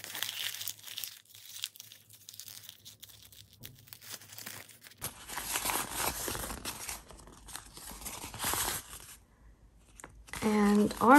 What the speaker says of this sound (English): let's try adding some interest in another way by crumpling it up